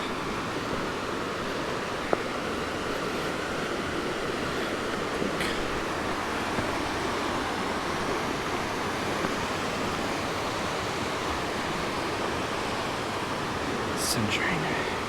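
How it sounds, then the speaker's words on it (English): The Duckabush River rushes steadily in a broad, constant roar, heard close and continuous with a few faint clicks over it. "Pretty river."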